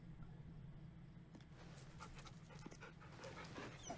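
A dog in Baldur's Gate 3 pants steadily while being petted, a continuous close breathy rhythm over a low game-ambience hum.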